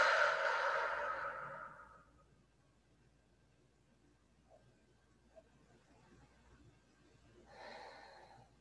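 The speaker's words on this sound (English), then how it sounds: "simply breathe in and out a few times" Slow breathing during a yoga class: a long audible exhale fades into near silence, then a new breath begins toward the end, close and unhurried over a faint room hum.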